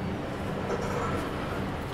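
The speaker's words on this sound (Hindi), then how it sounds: "तो यहाँ पे रात के 9 बजे हमारी ट्रेन निकल रही है आगरा फोर्ट रेलवे स्टेशन से" Howrah Jodhpur Express at night at Agra Fort railway station, a steady low rumble of the train and station ambience filling the whole stretch evenly, with no clear talk over it.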